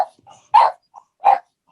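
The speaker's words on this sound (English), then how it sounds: "Barking dog gone." A dog barks twice in quick succession with a short gap between, each bark sharp and fairly close, with quiet background and no talk.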